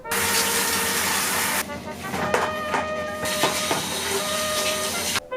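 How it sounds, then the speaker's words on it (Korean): Running water rinses a hedgehog's exercise wheel fouled with droppings, a loud steady rushing spray in two long stretches with brief clatters of the wheel being handled. "밤중에 똥밭이 된 쳇바퀴를 씻어줍니다"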